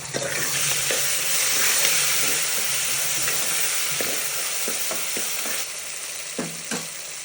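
Onion and tomato fry in a pan with a bright, continuous sizzle and occasional scraping stirs, loud and close, easing slightly toward the end.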